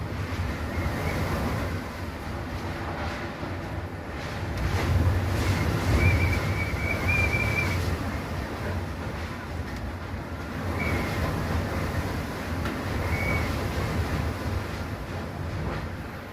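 Strong gusts from Typhoon Odette roar through a garden in a continuous heavy rumble that surges and eases, with faint whistling tones rising over the din.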